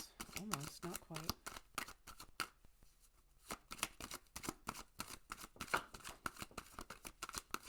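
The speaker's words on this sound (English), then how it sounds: "I'm not going to make you watch a bunch of video of me shuffling." A deck of Rider-Waite tarot cards being shuffled up close: rapid, crisp riffling bursts repeat with a short pause midway, and a brief voice is heard at the start.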